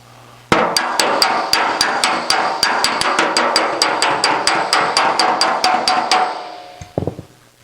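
Quick, steady light hammer taps work a dent out of an aluminum auto body panel, a rapid run of about two dozen close, sharp metallic hits, then a pause and a couple more.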